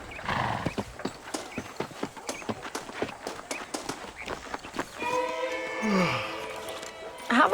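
Horse hooves clip-clop at a steady trot in the Western video game Red Dead Redemption, a rapid run of sharp close hoofbeats that slows and ends in a whinny.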